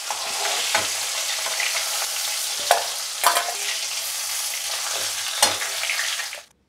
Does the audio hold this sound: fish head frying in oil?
yes